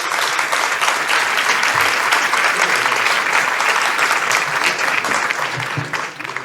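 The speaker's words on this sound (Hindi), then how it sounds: "जोरदार तालियों से मंच पर स्वागत करें" Loud, dense applause from a kavi sammelan audience welcoming a young poet onto the stage, steady and sustained throughout and fading slightly at the end.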